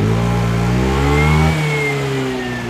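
Close and loud, a Honda Airblade scooter whose 110 engine has been upgraded to 125 revs up in one steady climb, then eases back to a lower, fading engine note.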